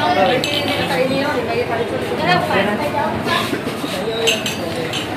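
Drinking glasses clink and knock repeatedly during a casual gathering, sharp bright taps scattered among people talking close by.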